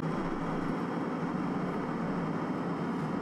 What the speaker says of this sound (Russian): Как будто самолет.